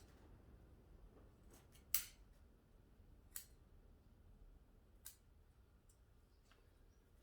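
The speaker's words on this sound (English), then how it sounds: "These new scissors are cutting pretty well." Sharp new scissors prune a bonsai tree with a few crisp, isolated snips spaced a second or more apart, close and quiet in an otherwise still room.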